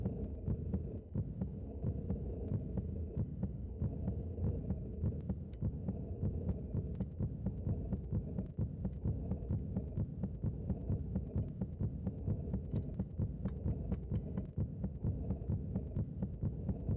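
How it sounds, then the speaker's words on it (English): In the Chrono Trigger DS video game, a heartbeat effect thuds in a steady rhythmic pulse over a low humming drone for the whole stretch, with no talking. "You hear the heartbeat increasing?"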